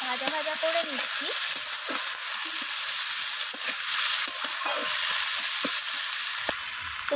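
Chopped onions stir-fry in a pan until browned, a steady close sizzle with frequent scrapes and clinks of a spatula stirring through them, loud and continuous throughout.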